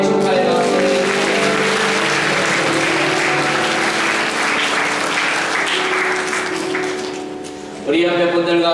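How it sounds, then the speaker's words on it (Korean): A church congregation applauds at a Sunday worship service, loud, dense clapping that fills about seven seconds before dying away, with music or singing running underneath and swelling again as the clapping stops. "우리 축하의 박수를"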